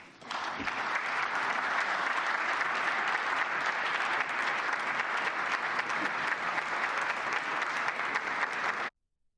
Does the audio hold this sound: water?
no